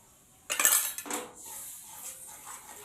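Ground spice paste with sour curd (yogurt) stirred and scraped in a metal pan while cooking egg kosha: a few clattering utensil scrapes against the pan, then a softer steady background hiss, close and fairly quiet.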